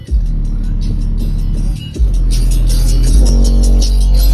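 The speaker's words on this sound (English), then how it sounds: "All the cars starting to pull up." Several cars pull up near a Dodge Challenger R/T, with loud, steady engine rumble that dips briefly before swelling again as the vehicles roll in close.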